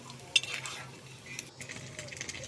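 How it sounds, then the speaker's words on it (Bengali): Small chapila fish frying in a pan: a soft, steady sizzle with a sharp utensil clink near the start and light scraping and stirring through the rest. "দেখো মাছগুলোকে এইভাবে ভেজে নেবে"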